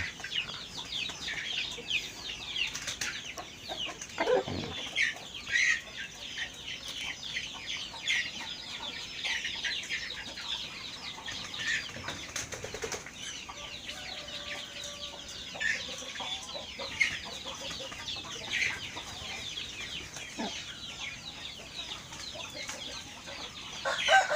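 Fighting chickens at a gamecock farm cluck steadily, with a few brief rooster calls rising over a busy, continuous farmyard din of birds.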